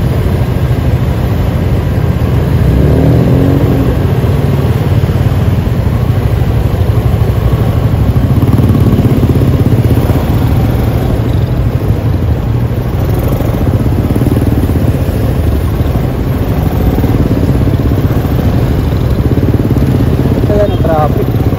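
Busy street traffic in a congested Philippine road, with motorcycles and cars idling and creeping along in a steady, loud low engine drone, joined by occasional voices.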